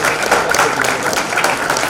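An audience at a welcome luncheon applauds in a dense, steady burst of clapping from many hands, loud and close, with no voices over it.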